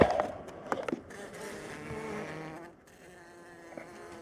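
Honey bees buzz around an open beehive during a winter feeding check, a close, wavering drone with sharp clicks and knocks of hive handling.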